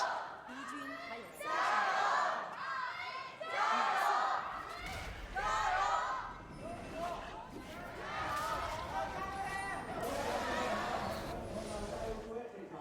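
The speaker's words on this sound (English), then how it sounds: "It feels fantastic to have a live audience in, to be able to hear the crowd cheering for the players." An esports arena crowd cheers at a live League of Legends LPL match between RA and RNG, swelling in loud bursts of shouting and applause with the noise rising and falling throughout.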